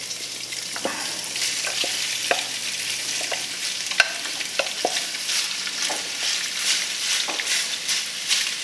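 Italian sausage fries in olive oil in a warmed pan with a steady close sizzle, punctuated by regular sharp clicks and scrapes of a utensil against the pan.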